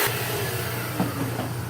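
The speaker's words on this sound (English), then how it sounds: "So I break out the old vacuum cleaner. It's a little bit noisy, but it only takes a minute." An old vacuum cleaner sucks up copper and corrosion dust while restoring a 1947 Scott 800B radio phono console, a steady, fairly loud motor roar with a constant whirring hiss and no voices.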